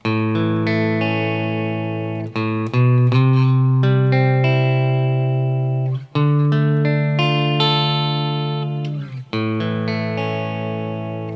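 A clean electric guitar plays sustained chords and notes through an amp, ringing out with slight pauses between changes.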